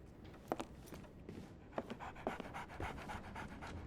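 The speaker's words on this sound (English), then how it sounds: "So, Barnes has a dog now" A dog in the Sherlock Holmes The Awakened video game pants rapidly and rhythmically at close range, with soft faint taps and shuffles around it.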